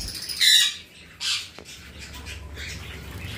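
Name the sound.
black-capped conure pair squawking while playing with finger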